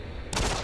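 A single sharp burst of gunfire from a gun in the video game Doom 3 cuts in abruptly partway through a quiet moment, loud and close, ringing briefly to the end.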